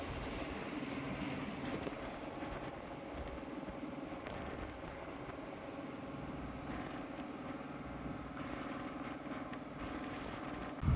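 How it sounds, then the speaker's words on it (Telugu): A MEMU electric passenger train rolls into Pattabiram station near Chennai, giving a steady, loud rumble of wheels and carriages with a few brief clanks, heard from on board with no talk. "మన స్టేషన్ ప్లాట్ఫామ్లోకి వెళ్ళిపోతున్నాము ట్రైన్"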